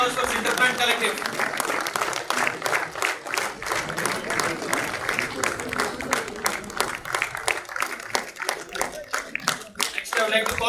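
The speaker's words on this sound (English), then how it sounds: "Please give a big round of applause for Sinterplant Collective." Large crowd applauding at a National Safety Day celebration at RINL, a steady, dense wash of clapping that continues throughout with little variation.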